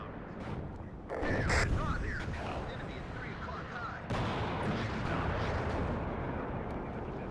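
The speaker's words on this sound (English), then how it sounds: "Oh, cluster bomb coming." Cluster bomb blasts in the WARNO war game land as a dense rolling rumble of explosions, with a sharp burst near the start and a heavier surge midway, continuous and fairly loud.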